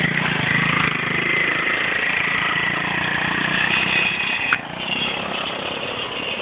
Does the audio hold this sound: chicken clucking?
no